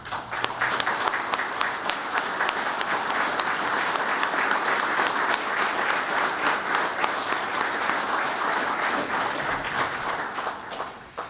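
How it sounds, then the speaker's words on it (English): A crowd at a fire department 9/11 memorial ceremony breaks into loud, sustained applause, dense clapping that holds steady for several seconds before starting to fade. "giving them a round of applause to the heroes of"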